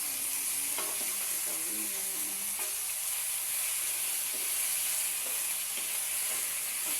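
Pre-cooked chicken sautéed with onion, ginger and garlic for tinolang manok crackles under a steady hiss, with a few scrapes of stirring early on and no talk.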